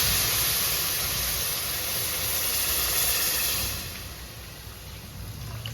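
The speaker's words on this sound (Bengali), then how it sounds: "ভাজা মোটামুটি হয়ে গেছে, এবার দিয়ে দেবো জল।" Water hits a hot pan of frying chicken, setting off a loud, steady steam hiss that runs for several seconds before easing to a softer, lingering sizzle.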